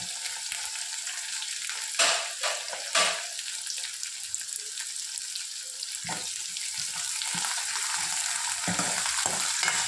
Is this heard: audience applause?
no